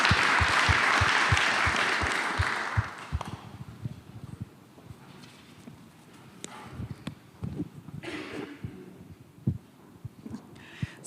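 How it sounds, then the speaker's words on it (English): A conference audience gives a burst of applause after a talk, loud and dense at first, then thinning over a few seconds into scattered claps and room noise. "I would say we give you a warm applause."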